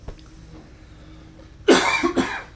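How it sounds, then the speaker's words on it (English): Two harsh coughs close by, a loud burst followed by a shorter second one, after a quiet stretch. "you're coughing up a lung"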